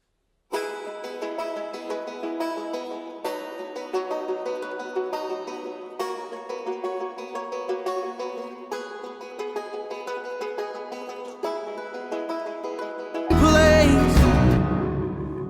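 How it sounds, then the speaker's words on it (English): A banjo and a ukulele play the same plucked part together in an indie folk arrangement, bright and steady with a regular rhythm, until a dense, louder wash of sound swells in near the end. "Now there's a banjo in the left side and a ukulele on the right side."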